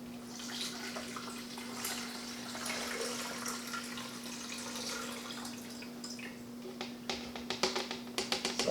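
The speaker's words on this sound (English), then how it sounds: "So I've weighed out the water and I can pour that in." Weighed water is poured into the reservoir of an auto drip coffee brewer, a steady quiet trickle and splash that ends in a few sharper drips and clunks, with a low electrical hum underneath.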